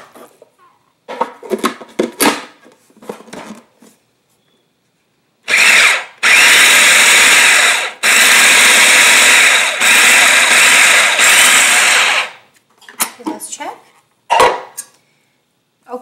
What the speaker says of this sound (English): Make sure you don't add a lot at the same time, otherwise your food processor is going to get stuck a lot